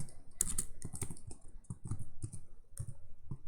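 Someone types on a computer keyboard at close range, producing quick irregular bursts of clicking keystrokes with brief pauses between runs.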